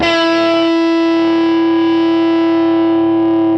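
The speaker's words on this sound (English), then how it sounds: "As you can hear, that's very fuzzy, so I just play like a single note." A single sustained electric guitar note through a Fuzz Face fuzz pedal, thick and heavily distorted with a rich harmonic buzz, loud and alone, ringing steadily for several seconds.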